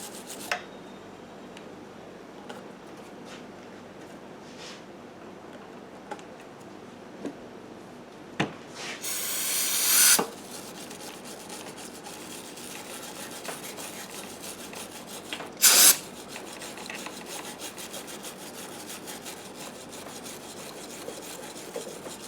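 Scraping old gasket material off a lawn mower engine head: a faint, steady raspy rubbing runs throughout, broken by a few louder scrapes and knocks.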